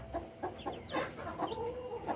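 A Rhode Island Red rooster clucks in a series of short, close, moderately loud calls, spaced irregularly and clearly audible, with no talk.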